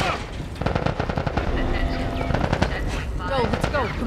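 Rapid automatic gunfire in The Last of Us, dense bursts of shots crackling close and loud over a hectic firefight, with shouting voices mixed in throughout.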